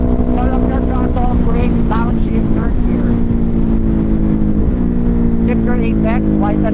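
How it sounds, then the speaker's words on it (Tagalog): A Ducati Monster 1200R motorcycle engine revs on a race track, rising and falling in pitch through upshifts and downshifts under braking. It sounds loud and close throughout, with a rider's voice talking over it. "Pull up your throttle, brake, downshift, third gear."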